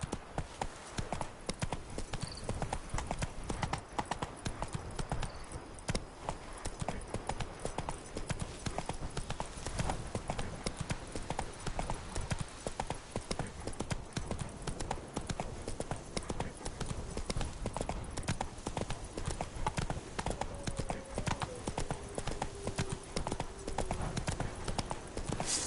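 Hoofbeats of the horse Roach running steadily in The Witcher 3, a fast continuous clip-clop rhythm that carries on throughout over a low bed of ambient game sound, with a faint whinny possible near the end.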